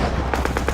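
Rifle shots ring out in a wartime sniper scene, a quick run of about four sharp reports over a constant, dense background rumble.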